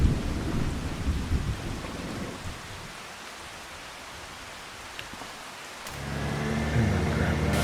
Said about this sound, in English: we'll wait for the rain to stop